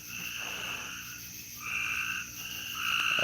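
A nighttime chorus of frogs, loud and close, with layered croaking calls that rise in waves, building toward the end.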